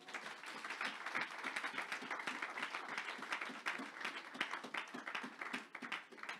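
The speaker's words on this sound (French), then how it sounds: "Est-ce qu'on peut acclamer la parole de Dieu?" A church congregation at a Sunday worship service applauds, a steady, fairly distant patter of many hands clapping that carries on evenly from start to finish.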